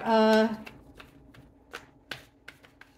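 Tarot cards being shuffled for a reading: a dense papery riffle in the opening half-second, then scattered crisp card flicks and taps, close and moderately loud, with no talking.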